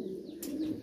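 Sirazi pigeons coo in low, soft, rolling notes at close range, with a brief brighter burst in the middle and no talking.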